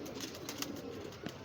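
Silk pigeons kept by a bird fancier cooing softly, low murmuring calls rising faintly above a quiet, steady background.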